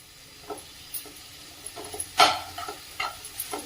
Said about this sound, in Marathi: सर्व साहित्य व्यवस्थित असं परतून घ्यायचंय।